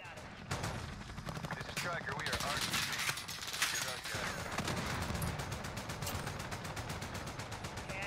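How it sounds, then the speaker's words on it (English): Rapid bursts of gunfire in Call of Duty: Modern Warfare, including the M4A1, crackle throughout, with overlapping automatic shots and a few louder blasts, all fairly quiet in the mix. "I hear them shooting at me."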